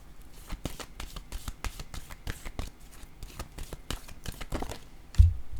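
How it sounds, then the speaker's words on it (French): Tarot cards being shuffled and drawn by hand, a rapid run of crisp riffling flicks and slaps, close and fairly quiet, ending in a firmer tap near the end. "je vais piger une autre carte"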